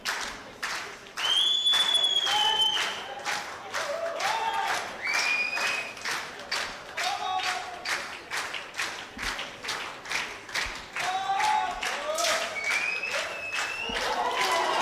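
Spectators at a 10m air pistol men's gold medal match clap in steady rhythmic bursts, a dense run of claps that swells and eases, with a commentator's voice and occasional shouts over it.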